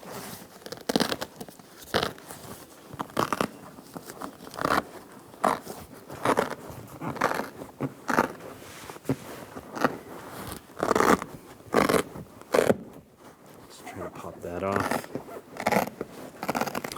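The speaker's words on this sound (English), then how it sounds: "There is Velcro holding this in." Velcro rips and crunching fabric noises come from a 2000-2006 Chevrolet Tahoe seat back as it is unwrapped, several short tearing bursts mixed with handling sounds and a person talking.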